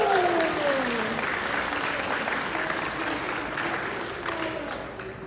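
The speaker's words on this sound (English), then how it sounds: "Say round of applause for Monty from GamerSupps, everybody." A convention audience at an anime event applauds a guest from GamerSupps called to the stage, steady loud clapping with a few cheers and whistles, slowly tapering off.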